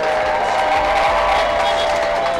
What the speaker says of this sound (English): Let's make some noise for Oakland High.